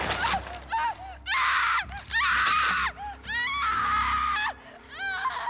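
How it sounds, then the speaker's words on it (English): Enemies in The Last of Us Part II scream and gasp in pain while being stabbed, shot or dismembered: a series of loud, strained cries and wails in separate bursts, each rising and falling, with short gasping breaths between them. "the desperate gasps of breath, and the painful screams that your enemies leave behind as they get stabbed"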